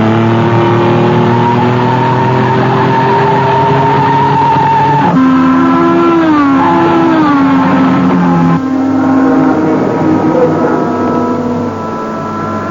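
A racing car from Thunderbirds drives past with a loud, sustained engine drone. Its pitch slides and shifts between gears in several sections, with no speech over it.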